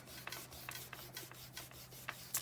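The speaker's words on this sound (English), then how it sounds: "And then I'm just going to burnish this in with my fingers." Fingers rub and burnish a die-cut paper piece in a series of soft, close rasping strokes over a faint steady hum, with no talking.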